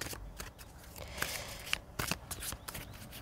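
Tarot advice cards being drawn and shuffled by hand: quick papery flicks and soft slides come close up in short bursts, quiet and without talk.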